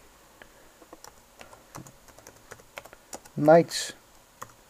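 Keys clatter on a computer keyboard as a search is typed into a search bar, a quick uneven run of clicks, with someone briefly speaking near the end.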